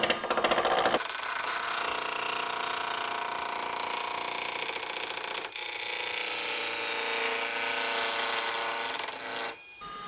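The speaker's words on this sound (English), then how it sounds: "Using a roughing gouge here." Roughing gouge cutting a spinning wood blank on a lathe running around 850 RPM, for a Celtic knot rolling pin; a loud, steady scraping rasp that holds for several seconds, dips briefly midway, then resumes and fades near the end.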